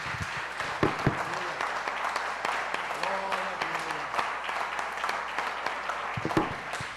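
A church congregation claps in a dense, sustained patter that fills the room, with some voices and a brief tonal sound mixed in underneath.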